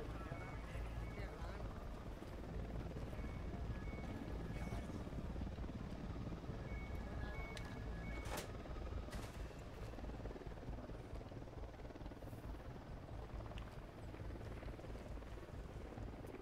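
Helicopter in the video game Ghost Recon Wildlands, a steady loud rotor drone with broad low rumble holding throughout, mixed with other game sounds.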